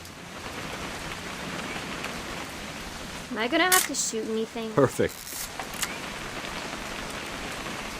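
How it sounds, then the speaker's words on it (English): Steady rain falls throughout a scene in the video game What Remains of Edith Finch, a constant soft hiss, with a voice speaking briefly over it partway through. "It's gonna rain the whole weekend, isn't it?"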